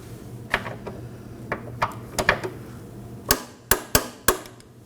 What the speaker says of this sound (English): Now let's torque these down to 18 foot-pounds.